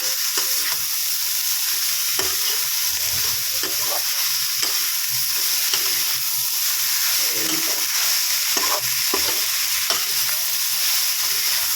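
Vegetables, onion and ginger-garlic frying in a little oil for Hakka noodles: a loud, continuous sizzle close by, with intermittent scraping stirs of a spatula in the pan throughout.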